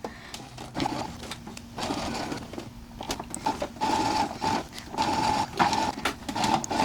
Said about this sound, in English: we're going to sew at a 1/2 inch seam allowance